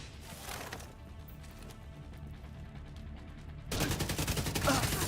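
Automated turret firing in The Division, rapid bursts of gunfire that swell loud near the end over a steady background of game sound.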